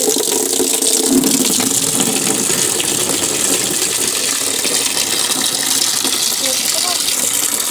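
Water gushing steadily from a tap or pipe as it is collected to eat with vara leaves, a loud continuous hissing flow filling the whole span without a break.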